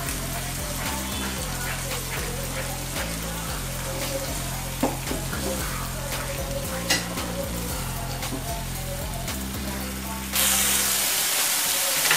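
A ground tomato and green chili masala cooking in a pan, steady sizzling with occasional stirring clicks, alongside a low repeating background hum, and louder hissing near the end.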